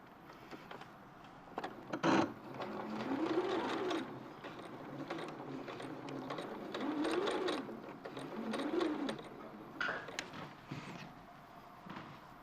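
Sewing machine stitching along the top of a folded fabric hem for a quilt, in several close bursts of rapid needle rattle that speed up and ease off over roughly ten seconds, with brief pauses between runs.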